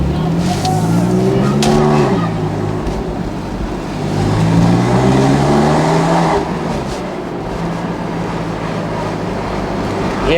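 A Porsche 997.2 Carrera 4S cabriolet engine drones steadily from inside the car, with pitch rising and falling through gear changes and downshifts with no throttle blip. The engine note is loud and continuous, with a voice speaking over it at times.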